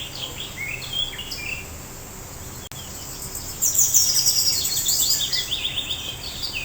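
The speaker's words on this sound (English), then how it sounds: "See, the bird sings in such a lovely voice." A bird sings high, rapid twittering phrases over a steady hiss, the song becoming fuller and more continuous in the second half.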